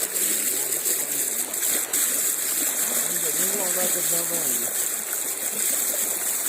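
Steady rushing floodwater flows continuously, loud and close, like a broad stream running past through a village ground after a breached embankment in heavy rain, with someone talking over it.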